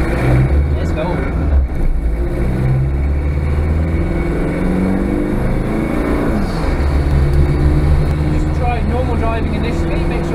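A car with a swirlpot and Bosch VE fuel upgrade pulls away and drives off, its engine droning steadily and loud throughout, with road and cabin noise.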